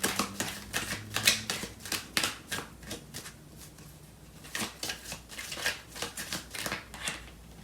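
Tarot cards shuffled by hand during a love reading, a close, steady run of crisp riffling bursts and card slaps with a brief lull midway before the rhythm resumes.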